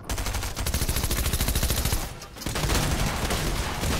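Rapid automatic gunfire in the battle royale game Fortnite: a dense, fast-repeating rattle of shots, loud and near, pausing briefly before another sustained burst.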